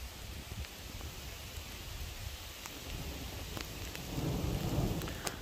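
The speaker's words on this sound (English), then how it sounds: "You go to wash something off and then it starts raining." Heavy rain pours down steadily in a storm while low thunder rumbles and swells louder toward the end, with no voices.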